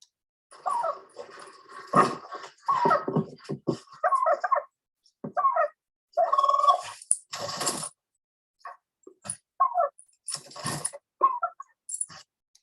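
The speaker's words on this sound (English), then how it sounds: "here is a recent recording of Dog Juniper and Big Red the turkey." A dog and a turkey recorded outdoors in a yard, with short bursts of barking, whimpering and gobbling-like calls alternating with silent gaps, fairly close and clear.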